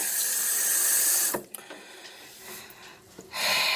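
Tap water runs steadily while hands are washed with hot soap and water, stops for a couple of seconds with faint clinks and handling sounds, then gushes again.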